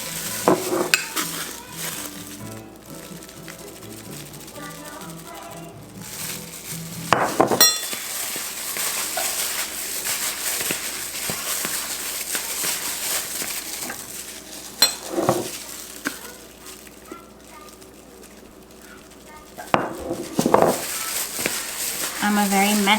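Beef for carne guisado is stirred in a sizzling pan, with scraping utensil strokes and clinks against the cookware over a steady fry, while someone talks over it.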